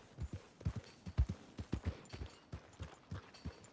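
Horse hooves clip-clop in Red Dead Redemption 2, a steady walking rhythm of soft thuds with irregular doubled beats, close and moderately quiet, without talk.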